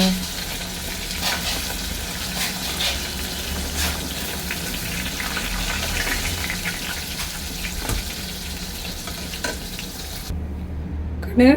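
Oil sizzles and crackles steadily as fish fries, with occasional scraping and stirring strokes, before cutting off near the end.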